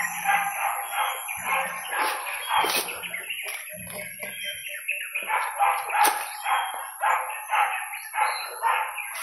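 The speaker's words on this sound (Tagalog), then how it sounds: "May naririnig tayong mga ano ng aso mga kaidol pero hindi natin nakikita." Several dogs bark continuously in rapid, overlapping bursts at a moderate distance, with a steady high-pitched whine in the background.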